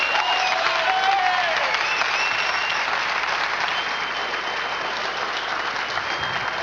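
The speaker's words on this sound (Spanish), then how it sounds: "Denle un aplauso fuerte al Señor." A church congregation applauds loudly and continuously, a dense wash of many hands clapping together that fills the room without pause.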